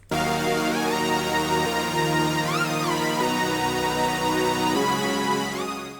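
A bright synth lead for a rage-type beat, with gliding, bending notes, plays over sustained synth chords; a loud, steady electronic passage with no voices.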